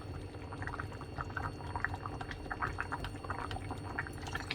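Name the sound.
pouring soy sauce, Maggi sauce and fish sauce by spoon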